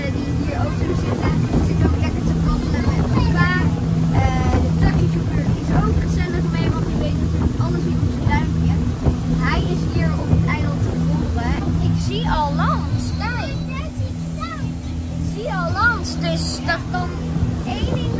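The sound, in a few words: boat engine running during boat ride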